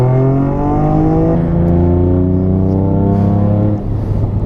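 A race car on a lap of the Nürburgring gives a loud, sustained engine drone from inside the car, its pitch sliding slowly downward as the car eases off, with no one speaking.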